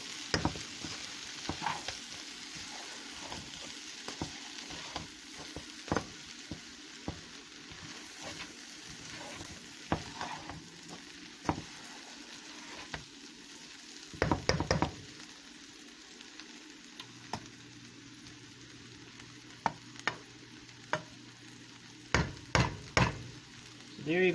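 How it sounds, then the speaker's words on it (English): Boiled chickpeas fry in a pan with a continuous soft sizzle, punctuated by repeated sharp clicks and scrapes of a utensil stirring against the pan, with no voices. "Don't want to fry it too much."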